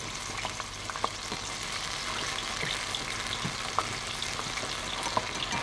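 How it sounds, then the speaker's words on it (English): Scallion whites fry slowly in corn oil in a pan over medium heat, giving a steady soft sizzle with a few sharp pops and crackles scattered throughout, close and fairly quiet. "Then add white parts of scallions first. Fry slowly until golden brown."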